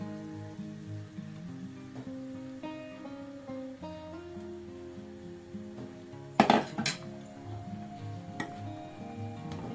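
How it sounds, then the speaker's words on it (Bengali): Milk puli pitha with date palm jaggery simmers in a pot as it gets stirred, mostly quiet with a faint tonal hum, then a short burst of metal spoon clatter against the pot. "আবার একটু নেড়ে দিচ্ছি।"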